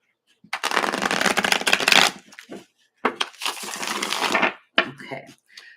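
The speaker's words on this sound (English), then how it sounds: "One more shuffle." Tarot cards shuffled close by in two long, dense riffling bursts separated by a short pause, then a brief clatter as cards scatter.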